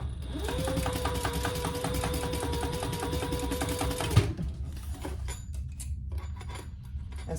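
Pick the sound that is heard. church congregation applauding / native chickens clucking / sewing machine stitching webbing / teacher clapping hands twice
sewing machine stitching webbing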